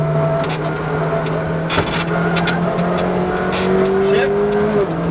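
McLaren GT4 race car on a track at SpeedVegas braking hard and downshifting, engine tone dropping with blips between gears, close and loud under an instructor's voice.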